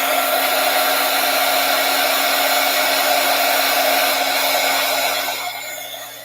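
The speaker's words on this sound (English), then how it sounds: "I'm going to dry this so I can cut those edges off." A dryer blows steadily on craft materials, a loud, constant close-up whoosh that eases off near the end.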